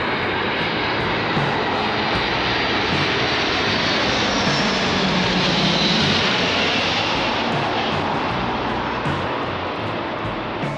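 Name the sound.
large military airplane flying over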